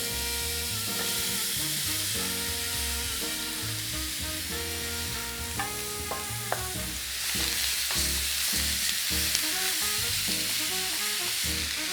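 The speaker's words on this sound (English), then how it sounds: "now we're going to add our pork in there to fry it off a bit" Belly pork fries in its own rendering fat in a pan for a pepper pork curry, giving a steady, loud sizzle that runs unbroken under tonal background music.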